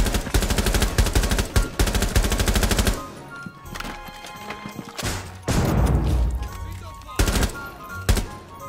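Rapid automatic gunfire in the video game Rainbow Six Siege, loud and close, with sustained bursts followed by scattered shots, impacts and thuds, while someone talks over parts of it.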